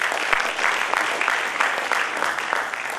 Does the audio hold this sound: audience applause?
yes